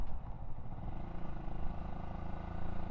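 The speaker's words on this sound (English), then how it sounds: "the bike is lovely and quiet" A Yamaha YZF R125 motorcycle running with a low, smooth, subdued engine hum, steady and fairly quiet throughout with no talking.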